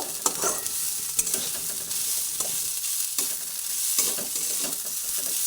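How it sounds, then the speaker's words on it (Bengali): Gobindobhog rice frying in ghee gives a steady, close sizzle, broken by repeated scraping stirs at a fairly even rhythm, with no voices. "ঘিয়ে এই এক দু মিনিট মতো একটু চালটাকে ভেজে নিচ্ছি"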